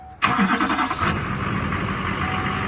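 A Chevy Duramax diesel pickup truck engine cranks briefly and catches after injector pigtail repairs, then settles into a steady, loud diesel idle close by.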